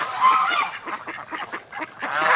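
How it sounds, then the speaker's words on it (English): Wild geese honking repeatedly in a noisy overlapping flock, fairly close, with harsh nasal calls in a steady irregular rhythm. "wild geese and Jean"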